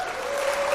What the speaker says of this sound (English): Let's have a nice big round of applause for Steven Shapiro.